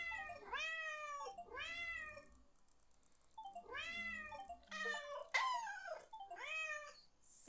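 A cat in Rome meows repeatedly, a series of clear, drawn-out cries with short pauses between them, close by over quiet background.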